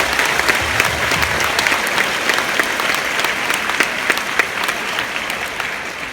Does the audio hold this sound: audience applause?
yes